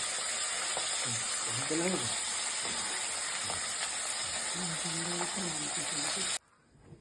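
Pabda fish frying in oil in a pan, a loud steady sizzle close by with faint talk underneath, cutting off abruptly near the end into near silence.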